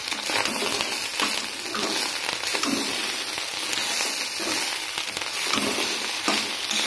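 Egg with onion and tomato fries in a pan, giving a continuous close sizzle and crackle with soft rhythmic scraping as it is stirred, and no voices.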